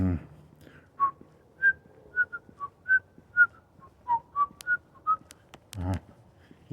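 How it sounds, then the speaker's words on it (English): A person whistles a short tune, a run of distinct clear notes in a bouncy rhythm, close and fairly soft, with a brief low thump at the start and near the end. "He tried to whistle the theme to."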